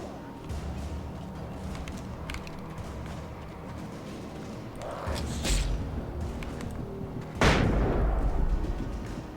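Flashbang explosions in the video game Alan Wake: several sharp bursts, the loudest near the end, over a busy, rumbling background.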